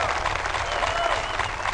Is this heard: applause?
yes